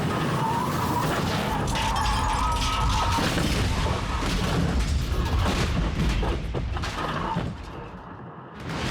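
A semi truck rams a car from behind on a highway during a road rage incident, producing loud crashing impacts and grinding metal over a roaring engine, sustained for several seconds before fading.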